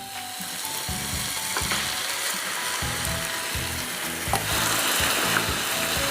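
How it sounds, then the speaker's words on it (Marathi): Washed rice tipped into a pan of hot oil and spices for masala rice, sizzling steadily while a spoon scrapes and stirs in repeated low strokes across the pan. "आपण आता यात धुवून घेतलेला तांदूळ टाकून घेऊ।"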